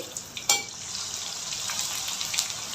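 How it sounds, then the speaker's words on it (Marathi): Edible gum frying in hot ghee in a kadai gives a steady close sizzle with a brief sharp crackle near the start. "थोडं थोडं डिंक फ्राय करायचे"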